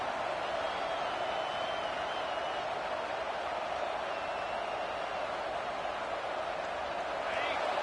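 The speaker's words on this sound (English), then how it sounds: "Listen to this crowd just shaking the girders of this place, trying to help their defense." A large stadium crowd at an American football game roars continuously, a dense wash of cheering and noise filling the space with no pauses.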